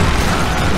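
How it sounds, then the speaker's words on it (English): A brief, loud rumbling boom of a video game explosion, dense and close, lasting under a second. "Explosions!"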